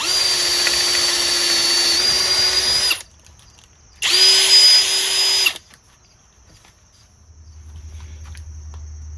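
A DCK 20V cordless hammer drill with a lithium-ion battery whirs loudly in two close bursts, about three seconds and then about one and a half seconds, with a quiet pause between and faint hum afterward.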